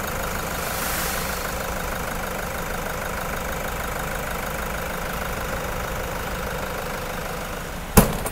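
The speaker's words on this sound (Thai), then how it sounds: "ตอนนี้สตาร์ทเครื่องอยู่นะคะคุณลูกค้าสามารถฟังเสียงเครื่องยนต์ได้เลยค่ะ" A 2017 Toyota Commuter 3.0-litre diesel van engine idles steadily with a low, even rumble and faint knocking, then a brief click near the end. No voices.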